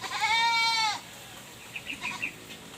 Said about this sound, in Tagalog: Yung kambing natin na isa, nahanap yung nanay.